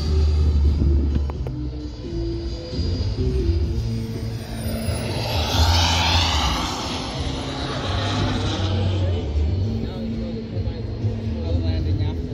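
A foam L-39 Baltic Bee RC model jet makes a low landing-gear pass, its ducted-fan whine rising and falling as it sweeps past at moderate distance under steady outdoor rumble, with people talking over it.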